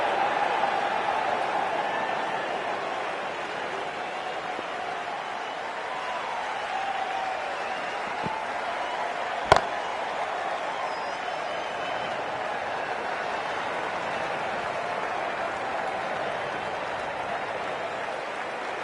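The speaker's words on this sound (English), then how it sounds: "There's a buzz, a real buzz coming from the stands." A large crowd at an IPL cricket match in a stadium, a steady far-off roar of cheering and applause running throughout, with one sharp nearby clap standing out.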